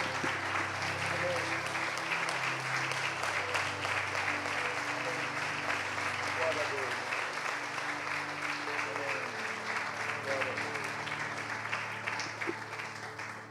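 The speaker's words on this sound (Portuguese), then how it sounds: "Você pode aplaudi-lo." A church congregation claps together after a prayer, a dense, even applause that continues steadily throughout with a faint murmur of voices underneath, fairly distant in a large worship room.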